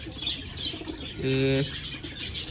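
A baby white pigeon gives a short, faint chirping coo near the middle, under a noisy background with a hiss and light murmur.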